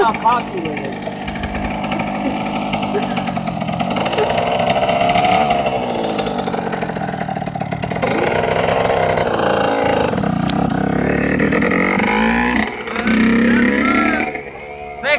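A dirt bike engine revs loudly and continuously up close, its pitch rising and falling as it shifts gears, while voices shout and talk over the roar.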